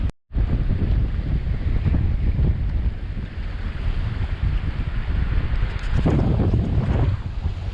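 Ocean waves crash on the rocky shore of a deserted island, a steady roar of surf mixed with heavy wind buffeting the microphone, loud and continuous with slight surges, no talking.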